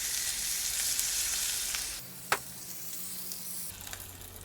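A frozen steak sizzles steadily on a flat top griddle, a constant hiss close by with a brief clink partway through, no talking.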